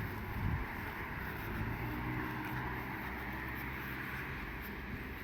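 Strong wind blows steadily through a German village, a dense roaring rush with low rumbling gusts near the microphone throughout, no voices.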